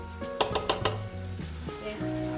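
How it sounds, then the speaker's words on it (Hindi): Frozen peas and mixed vegetables sizzle in hot oil for a vegetable biryani, with a few sharp clinks of a spoon stirring against the pan and a steady frying hiss underneath. "2 मिनट तक बस अब हमें इसे फ्राई करना है, उससे ज़्यादा नहीं।"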